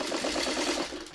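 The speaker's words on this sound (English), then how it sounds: "Just by doing a little quick back stitch." A home sewing machine quilting a windmill pattern runs a quick back stitch, a brief close burst of rapid, even needle clatter lasting about a second before tapering off.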